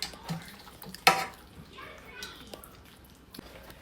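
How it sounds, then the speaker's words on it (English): A serving spoon clinks once against a pot as creamy cafeteria-style noodles are dished out, followed by soft scraping and stirring, with a voice and household chatter in the background. "Let's dish it up."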